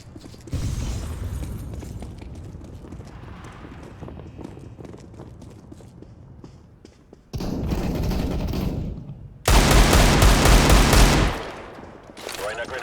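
Weapons fire in the video game CS:GO in an office map: quieter mechanical clicks and handling noise give way to loud, dense bursts of rapid gunfire, with the heaviest volley near the end.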